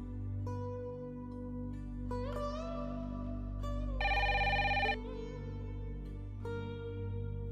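Telephone ringing indoors in a Marathi TV serial scene: brief electronic tones, then a loud trilling bell burst lasting about a second, over a steady low background hum.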